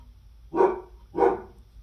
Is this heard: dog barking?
yes